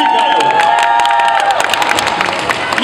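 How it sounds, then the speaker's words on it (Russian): A live audience applauds and cheers in a hall, with loud continuous clapping, whoops and shouts that fill the whole stretch. "давайте поддержим их аплодисментами"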